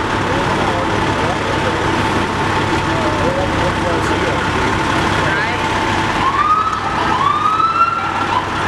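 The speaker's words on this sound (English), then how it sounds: "Here comes an ambulance." Ambulance siren wailing in the distance on a city street near a trolley line, rising sweeps emerging over steady traffic noise and growing clearer toward the end as it approaches.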